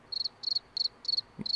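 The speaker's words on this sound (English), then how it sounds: "get the crickets ready" A soundboard crickets effect plays five even bursts of shrill, rapid chirps at regular intervals, clear and alone with a faint thump near the end.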